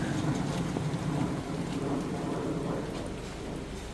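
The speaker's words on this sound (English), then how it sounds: "It's pouring rain." Heavy rain pours down in a dense, continuous hiss with a low rumble underneath, steady throughout.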